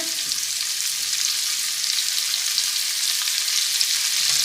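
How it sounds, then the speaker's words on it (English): Chopped onion sautés in a pan on a stove turned down low, making an even, dense crackling sizzle that stays close and steady throughout, with no talking. "I'm going to saute that a little bit"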